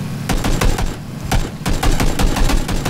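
Gunfire in PlayerUnknown's Battlegrounds, rapid loud bursts of automatic shots in quick uneven clusters, close and dominant with no talking.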